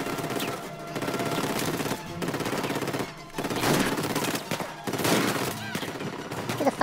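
Sustained gunfire in Uncharted 4, dense overlapping automatic bursts and shots rolling on almost continuously with brief pauses, someone talking over the firefight.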